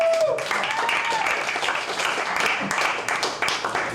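A comedy club audience applauds and cheers for the MC, Johnny B, at a roast show in Tampa. Steady, dense clapping fills the room for about four seconds, with a few voices mixed in.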